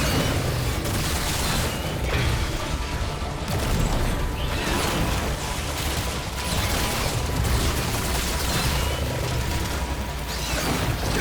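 Explosions and a firestorm in the video game Remnant 2 make a dense, continuous barrage of booms, blasts and whooshes. The chaotic roar stays loud and unbroken throughout.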